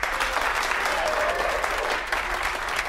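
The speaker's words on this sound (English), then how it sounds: "a big round of applause for today's contestants" A studio audience at a cooking game show applauds the contestants, giving steady, dense clapping that holds at an even level for a few seconds.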